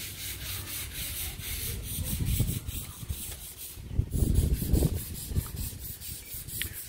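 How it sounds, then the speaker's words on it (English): Workers smooth off a wall and stairs on a house build, giving continuous rough scraping and rubbing strokes, close and moderately loud, with denser bursts of grating partway through and no talk. "we've got one guy smoothing off the wall there"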